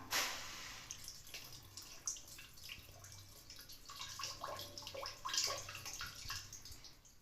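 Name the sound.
water being poured to rinse goat intestines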